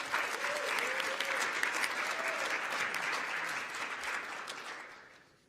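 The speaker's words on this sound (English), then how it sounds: "Let's give her a big round of applause." Audience applause at a political committee meeting fills the room in a steady, dense wash of clapping that holds for several seconds and then fades out.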